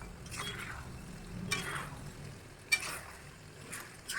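Jaggery is stirred into a pot of plum pickle, a faint low sizzle with a couple of soft spoon scrapes against the pan.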